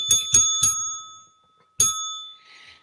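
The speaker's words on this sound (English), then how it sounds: "Southern Tier Prepper bought me a new bell" A new bell sitting on a desk is struck four times, three quick rings close together then one more after a pause, each a bright metallic ding with a long ringing tail, heard alone.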